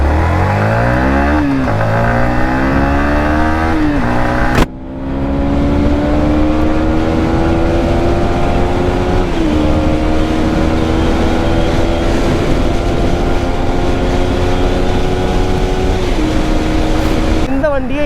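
A Yamaha MT-15 motorcycle engine revs hard while riding, rising steadily in pitch through several gears with brief dips at each shift, loud and close throughout.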